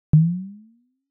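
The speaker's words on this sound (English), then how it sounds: "if we approximate this non-spherical bubble as a sphere, as before, we get a single frequency" A single pure synthetic tone from a simulated bubble approximated as a sphere, with a sharp onset, holding one low pitch that rises slightly as it fades out over about half a second.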